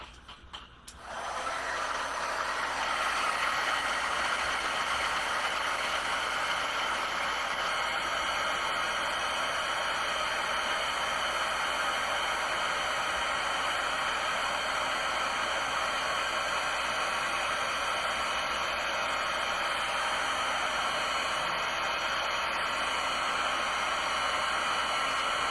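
A heat tool blows steadily to melt clear embossing powder on a handmade Christmas card, a loud, close, continuous whooshing hiss that starts abruptly and runs unbroken with no speech.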